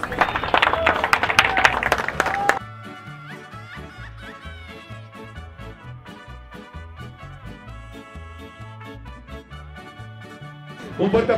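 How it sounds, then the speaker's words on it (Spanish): Winners at a fighting-rooster expo get a loud burst of crowd applause. It gives way to several seconds of music, then the clapping rises again briefly at the end. "Un fuerte aplauso a todos, por favor"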